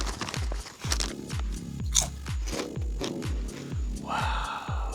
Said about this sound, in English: make crunchy noises for ASMR